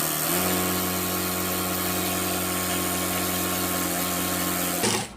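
Sewing machine being tested with its bobbin case removed, running steadily at speed with a continuous close mechanical hum and whir while the pedal is held down, cutting off abruptly near the end.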